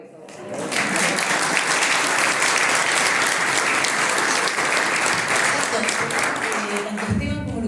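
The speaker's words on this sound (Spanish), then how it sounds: "Así que un aplauso por eso." An audience at a book presentation at a provincial book fair breaks into sustained, loud applause that fills the room for several seconds, with a few voices and cheers mixed in before it fades.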